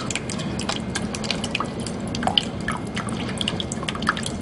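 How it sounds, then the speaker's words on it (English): Water poured slowly over a Biodisc in a laboratory, a light irregular trickle with scattered small drips and splashes over a steady low background hum. "You can see that we are pouring the water over the Biodisc slowly."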